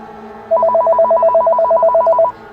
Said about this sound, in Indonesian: Ternyata nomor tadi kembali menelponku.